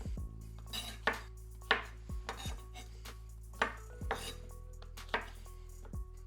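Mushrooms being quartered with a knife on a board, several sharp chopping taps spaced irregularly among clinks of kitchen utensils, close and fairly quiet.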